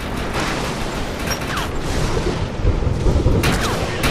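Gunfire aimed at the Hellion in the game Defiance 2050 crackles in rapid bursts over a thick, rumbling backdrop of booms and mechanical noise, growing heavier and louder toward the end.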